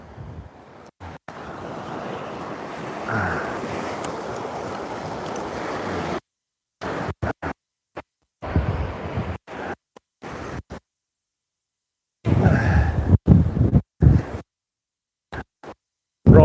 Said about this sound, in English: Wind's really starting to pick up now.